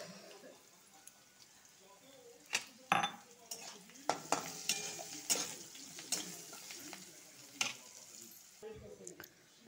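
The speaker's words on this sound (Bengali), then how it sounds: "পেঁয়াজটা ভাজা ভাজা হয়ে গেছে।" Onions fry in a pan with salt and turmeric, a soft steady sizzle broken by sharp scrapes and clinks of a spoon stirring against the metal, with faint voices in the background.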